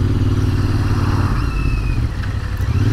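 A 2019 Royal Enfield Interceptor 650 twin motorcycle rides along with a steady, loud low engine drone and exhaust rumble, a brief rising whine near the middle, and a slight dip before the engine note firms again.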